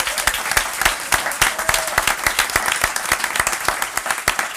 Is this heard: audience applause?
yes